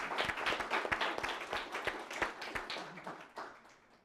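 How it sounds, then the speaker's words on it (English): Audience applause for a discussion panel at a New America Foundation event on internet fragmentation, a dense patter of clapping that starts loud and gradually tapers off over about four seconds. "So please join me in giving our panel a big round of applause."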